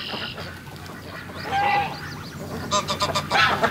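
Muscovy ducks calling outdoors on grassy ground, a few short honking, hissy cries in bursts, moderately near, the later ones coming in a quick uneven run.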